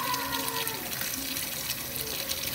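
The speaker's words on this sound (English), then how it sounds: "And to wash my jars, I just use hot soapy vinegar water." Hot soapy vinegar water running from a tap while glass canning jars are washed in a sink, a steady close splashing gush throughout with no talk.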